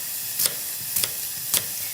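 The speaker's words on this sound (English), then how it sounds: "You can hear the apple sizzling." Apple slices sizzle in a heavy stainless steel skillet, a steady close frying hiss with three soft clicks of stirring spaced evenly through it.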